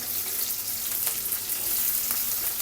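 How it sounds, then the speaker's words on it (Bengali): Fish frying in a pan with tomato, a steady close hiss of sizzling oil running throughout with a few faint clinks, no voices. "মাছ ভাজা হচ্ছে।"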